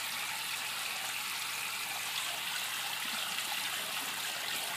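Steady running water pours without pause, a continuous hiss close by and alone.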